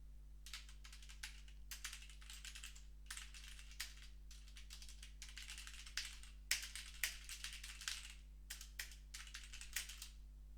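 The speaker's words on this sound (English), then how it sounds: "I'm gonna try to type on a mechanical keyboard" Steady clacking of a mechanical keyboard being typed on in quick bursts with short pauses, close up, over a low electrical hum, picked up by a SteelSeries Arctis 3 2019 Edition headset microphone.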